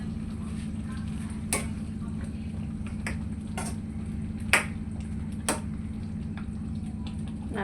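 A cashew and yogurt mixture is stirred in a pan, with a low steady hum and occasional sharp clicks and taps of a utensil against the pan.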